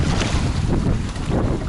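Strong wind buffets the microphone on a beach hike at Balandra Beach near La Paz, Baja California Sur, a loud continuous roaring rush with gusty swells and no voices.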